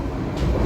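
The Tawang Jaya economy class passenger train runs on rails with a loud, steady rumble and rattle, heard close up from on board, with no talk.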